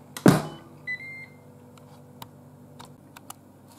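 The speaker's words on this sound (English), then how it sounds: "Air fryer time. Close the lid." On a Ninja Foodi pressure cooker and air fryer, a sharp close thunk of the lid shutting is followed by short electronic beeps from the control panel and a few soft clicks and taps in a quiet kitchen.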